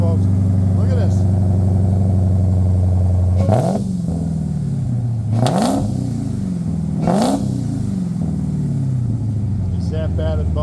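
A 1969 Plymouth Roadrunner with an 800 hp Hellcat Redeye engine idles, then revs sharply three times, each roar climbing and falling back, with a low rumble in between.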